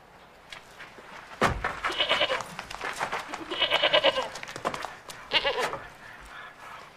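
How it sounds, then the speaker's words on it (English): A goat bleats several times in a historical drama set in medieval Paris, the wavering cries close and fairly loud with brief pauses between them. "A goat."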